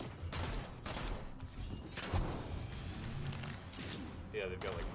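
Enemy gunfire in a video game, a series of sharp, rapid shot bursts and mechanical clatter repeating through the clip, moderately loud under people talking.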